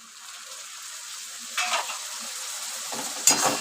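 Masala paste of cumin, Kashmiri chilli, ginger-garlic, turmeric and salt with a splash of water being fried in oil and stirred, giving a soft steady sizzle with a few louder scraping stirs near the end.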